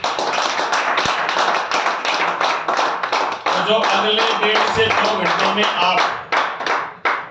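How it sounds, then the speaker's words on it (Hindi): An audience at a product presentation claps in a dense, sustained burst, with a voice speaking loudly over the applause. "इसके लिए आप ताली बजा सकते हैं।"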